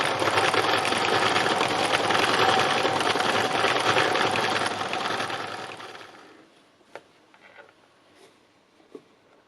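A sewing machine stitches along the top edge of an artwork, a steady dense whirring hum for about six seconds before it winds down, leaving a few soft clicks and handling noises.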